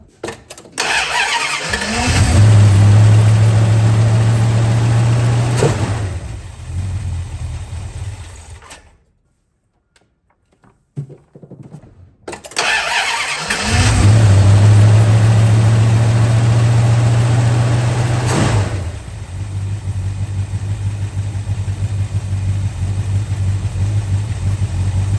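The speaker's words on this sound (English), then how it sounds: "Dead cold start, 0 idle, almost idle, and then a happy idle." A 1968 Plymouth Barracuda with a 318 V8 starts from dead cold with a loud crank and catch, runs briefly, cuts to near silence, then fires again and settles into a steady, even idle.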